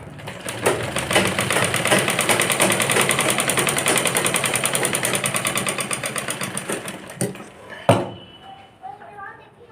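A sewing machine runs in fast, steady stitching on a skirt for a 12-year-old girl for about seven seconds, then stops with a thump, leaving faint movement and a quiet voice.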